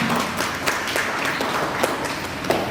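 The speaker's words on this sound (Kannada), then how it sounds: "ಇದಕ್ಕೆ ಸದಸ್ಯರೆಲ್ಲರೂ ಚಪ್ಪಾಳೆ ಮೂಲಕ ಅನುಮೋದನೆ ನೀಡಲು ಕೋರುತ್ತೇನೆ" Members of a cooperative society meeting applaud together to approve an appointment, a steady wash of many hands clapping throughout with no talk.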